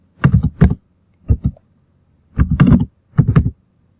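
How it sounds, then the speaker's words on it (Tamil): Bursts of typing on a computer keyboard while entering a web address, four clusters of rapid, loud, close key clicks separated by short pauses, with no talking over them. "wordpress.com டைப் பண்ணோம்."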